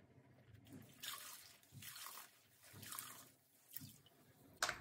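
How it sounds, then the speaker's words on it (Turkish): Tulle cloth is washed by hand in water, giving soft repeated swishing and sloshing surges with a few drips, fairly quiet and close, with no talk. "Tülümü yıkıyorum."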